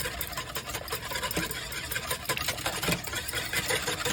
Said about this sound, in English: let's whisk this together here